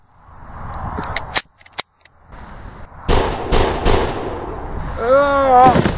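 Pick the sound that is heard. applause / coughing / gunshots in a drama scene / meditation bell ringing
gunshots in a drama scene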